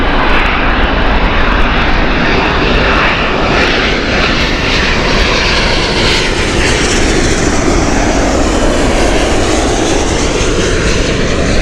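A British Airways airliner in oneworld livery at Gatwick roars loudly and continuously, with a dense broadband engine rush that slowly shifts in tone as it passes close by.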